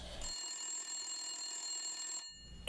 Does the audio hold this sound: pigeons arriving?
no